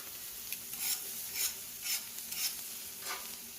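Vegetables stirred on a Blackstone flat top griddle make a soft, steady sizzle, with a regular series of scraping strokes about every half second; no voices.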